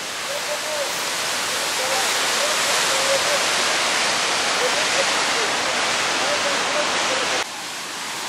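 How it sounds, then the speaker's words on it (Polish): The Trümmelbach Falls in Switzerland pour with a loud, steady rushing hiss, and a faint voice murmurs beneath it before the roar eases slightly near the end. "I jesteśmy przy tym wodospadzie"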